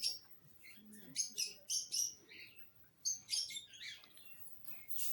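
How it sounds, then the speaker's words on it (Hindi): Small birds, one of them yellow, chirp and tweet in an aviary at Chhatbir Zoo in Chandigarh, giving bright, quick bursts of calls in clusters with brief pauses, fairly close and moderately loud. "ये देखिए भाई येलो कलर की एक चिड़िया।"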